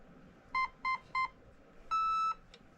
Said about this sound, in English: couple of beeps, there you go.